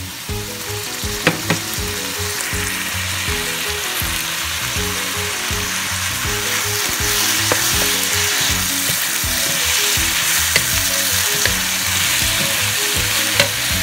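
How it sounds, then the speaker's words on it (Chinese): Shredded beetroot and strips of wheat gluten stir-fried in a wok: a loud, steady sizzle with rhythmic spatula scrapes and tosses that repeat throughout, close up and without speech. "我们把刚才切成丝的这个面筋也放进锅里"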